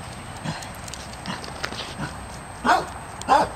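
A dog barks a couple of times indoors, two short loud yaps near the end after softer scattered noises and thumps.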